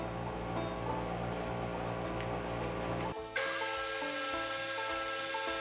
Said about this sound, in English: So 60 grit belt is what we're going to be using.